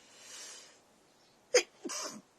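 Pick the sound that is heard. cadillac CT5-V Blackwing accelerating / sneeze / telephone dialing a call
sneeze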